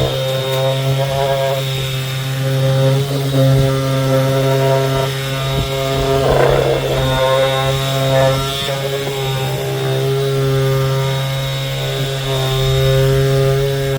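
A Parkside 20V cordless sheet sander runs steadily up close, a loud sustained motor hum with a buzzing tonal whine that shifts slightly as it works a surface, no voices over it.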